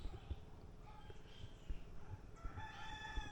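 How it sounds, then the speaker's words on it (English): Birds call in Jamaican bush at a parrot sanctuary in Cascade, with bright whistling and squawking notes rising over a low rumbling background, strongest toward the end, moderately close. "you hear the parrot there"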